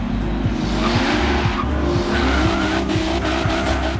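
A BMW M4 in Forza Horizon 3 roars close by with a steady engine drone while its tires squeal and skid almost continuously, loud and sustained with no talking.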